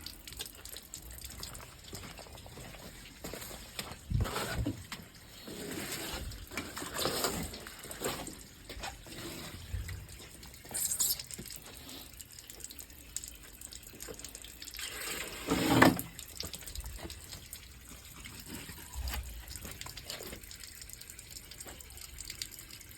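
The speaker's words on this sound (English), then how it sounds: "That's something of simulated rainfall." Water pours and splashes unevenly to simulate rainfall, gushing in irregular surges and trickles like a tap running into a basin, fairly close with louder bursts scattered throughout.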